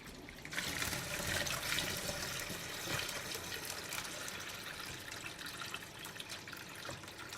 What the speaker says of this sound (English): We fill this with water and see how it goes.